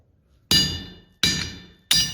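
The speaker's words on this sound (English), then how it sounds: "I don't want my hammer to come right through to the blade" Hammer striking hot metal at a blacksmith forging demonstration, three sharp ringing clangs evenly spaced, each decaying with a bright metallic tail.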